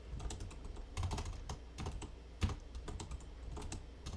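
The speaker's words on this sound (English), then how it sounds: "my keyboard is too loud." Computer keyboard typing, a soft rapid stream of clicking keystrokes with irregular rhythm and an occasional heavier key press, close-miked but faint, with no speech.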